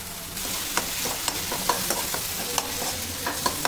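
Onions and tomatoes frying in a pan for chutney, a steady close sizzle with repeated scraping and clinking as a spoon stirs them.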